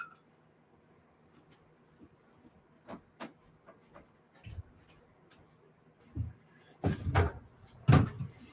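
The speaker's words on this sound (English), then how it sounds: "hear my floor squeak" Wooden floorboards creak and squeak underfoot in a series of separate, uneven sounds that grow louder and sharper toward the end as steps shift weight, with quiet gaps between.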